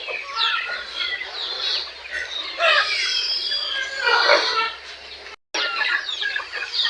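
Turkeys on a farm gobbling and clucking in a dense, continuous chorus of overlapping calls, fairly loud and close, with a brief cutout near the end.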